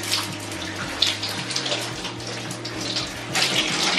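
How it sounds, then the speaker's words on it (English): Water runs steadily from a tap or shower as shampoo is rinsed out of curly hair, a continuous close splashing with small shifts as hands work through the hair. "As you rinse it, just squeeze it through the rest of your hair, and it cleanses the rest of your hair as it goes through."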